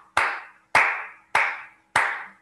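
Four sharp hand claps at an even, steady pace, loud and close, each with a short ringing tail in a small room; no one speaks.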